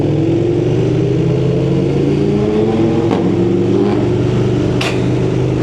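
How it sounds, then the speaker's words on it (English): A Yamaha MT-09 or KTM Super Duke motorcycle engine pulls hard and loud up close, its steady droning revs rising, with sharp brief pops around gear changes and no talking. "Well, that pop on the gear change. Yeah, it sounds so good."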